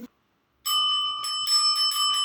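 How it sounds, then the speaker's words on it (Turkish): A bicycle-style bell pressed by a child rings with a bright, sustained metallic trill, loud and close, after a brief moment of quiet. "Al bakalım bu zili sen birazcık zile bas bakalım kazandığın için."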